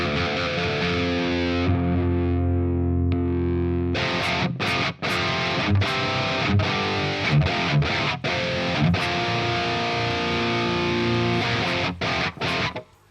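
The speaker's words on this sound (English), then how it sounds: "So let's see my tube screamer versus their tube screamer." Electric guitar driven through a Tube Screamer overdrive into a Bogren BDM Series Marshall amp simulation, noise gate off, playing dense distorted chords and palm-muted chugs that start sparse and then hit hard from about four seconds, loud and continuous.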